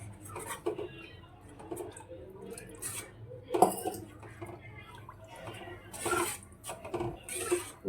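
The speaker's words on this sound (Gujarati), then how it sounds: "છાશ નાખ્યા પછી ચમચો હલાવી જ રાખવાનો" A ladle stirs buttermilk in a cooking pot for a dhokli vegetable curry, giving soft metallic clinks and scrapes with occasional sharper knocks, close by and continuous, under a low background hum.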